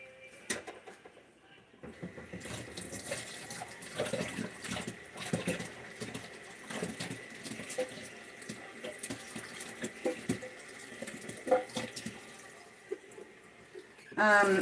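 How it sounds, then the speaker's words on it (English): A big kitchen knife rinsed under a running kitchen tap, water splashing and pattering steadily with small clinks of metal against the sink, fairly faint and close, ending in a sharper clatter. "I'm going to go ahead and rinse off the big knife because we're done using this."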